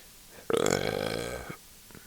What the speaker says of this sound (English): I got noodle burps and beer burps.